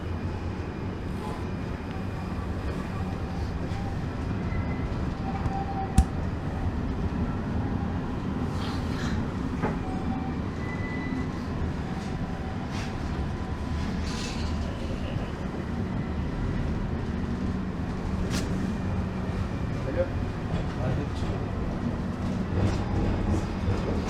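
An Istanbul tram carries passengers toward Aksaray with a steady, continuous rumble and rolling rail noise. Faint clicks and the occasional squeal sit over the drone for the whole ride.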